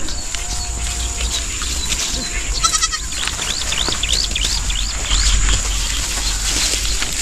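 Goats bleat on a small Philippine farm, several short wavering cries rising over a steady outdoor background hum, close and fairly loud.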